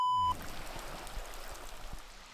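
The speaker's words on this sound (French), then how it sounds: "je crois qu'il pleut." Rain shower falling outdoors in a landscape setting, a steady, diffuse hiss of drops with soft pattering and a few low thumps, continuous throughout and without any voices.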